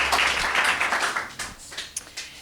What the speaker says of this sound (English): I first want to get a good round of applause for these talented people sitting up here.